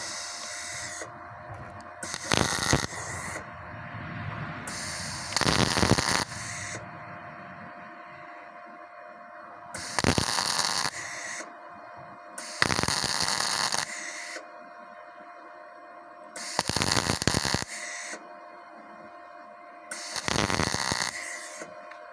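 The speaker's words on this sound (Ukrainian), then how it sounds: "Надіваємо шайбу, приварюємо, а тоді болт." Welding a washer and bolt onto an OROCH corn header, heard as repeated bursts of harsh crackling arc hiss lasting one to two seconds each, separated by quieter pauses with a faint background hum.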